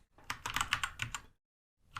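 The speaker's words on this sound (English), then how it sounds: "So say I start typing something" Rapid typing on a computer keyboard while entering text in a design app, a close burst of clicky keystrokes, a short pause, then a few more keys, with no talk.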